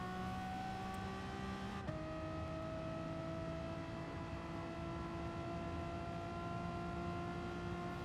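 A Renault Sport Mégane in Gran Turismo Sport holds a steady, smooth engine drone with clear harmonic tones, briefly dropping pitch after a gear change and then sustaining an even hum.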